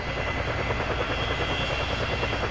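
Helicopter in the PS2 video game Gungrave Overdose, a steady loud rotor chop with dense broadband engine roar running continuously throughout, close and unbroken with no voices.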